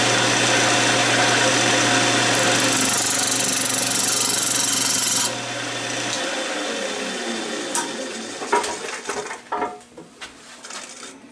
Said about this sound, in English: Fortunately, I have the Easy Wood hollowing system, which does make light work of this.